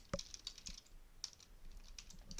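Keys clatter on a computer keyboard in a short, quiet burst of light taps with brief pauses between them, heard close and without speech.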